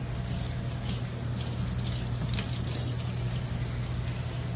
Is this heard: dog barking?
no